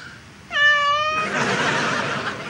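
A single loud, drawn-out cat meow used as a sound effect, rising sharply and then trailing into a raspy, breathy hiss; no speech.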